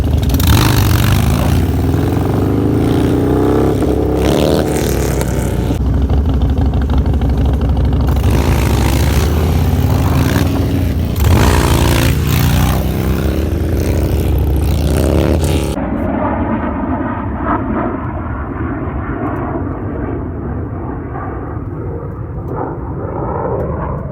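A Harley-Davidson Dyna motorcycle's engine revs hard and steadily while the bike is drifted, a loud continuous roar with surging throttle peaks, easing into a lower, rougher drone for the final stretch.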